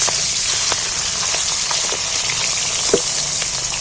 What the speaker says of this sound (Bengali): এইবার আমি একটু এটি ওটিক করে উল্টিয়ে লাল লাল করে ভেজে নেব